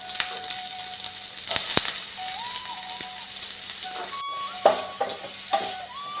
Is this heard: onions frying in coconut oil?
yes